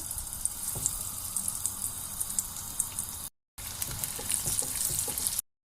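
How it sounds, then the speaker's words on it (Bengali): A spring roll fries in hot oil, giving a steady close crackling sizzle with small pops that drops out briefly before resuming. "তেলটা গরম হয়ে গেছে, আমি এখন দিয়ে দিচ্ছি।"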